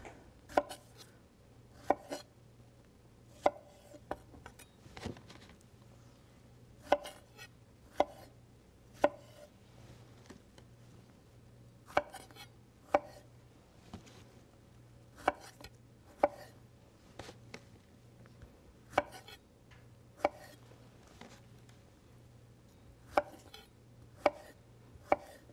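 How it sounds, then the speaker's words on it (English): A knife chops strawberries into quarters on a cutting board, sharp close taps landing in an irregular, unhurried rhythm over a quiet kitchen hum. "strawberries, we're just going to put some in and just cut them into quarters"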